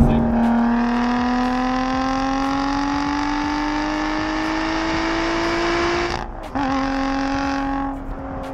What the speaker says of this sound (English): That V6 really burbles like mad, especially with the, you know, exhaust setting, bypass open sort of thing.